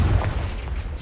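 Confringo blasting spell from Hogwarts Legacy, heard as a deep, booming explosion with a rumbling low-end burst that lasts about a second.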